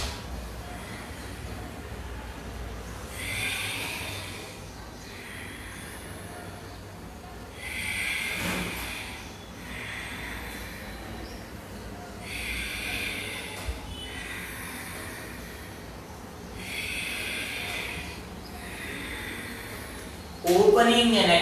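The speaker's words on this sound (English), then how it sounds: "Breathe out." Loud, rhythmic breaths out during a seated cat and cow stretch in a chair yoga session for elders, five or six broad airy exhales spaced a few seconds apart, close and clear, with a brief bump of noise at the very end.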